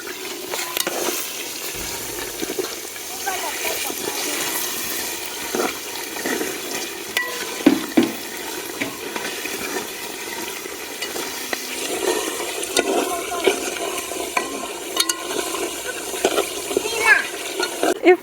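Tomatoes go into a frying meat stew being made for a rice and tomato stew in Atakpame, Togo, giving a continuous sizzle with scraping stirs and clinks of a utensil against the pot.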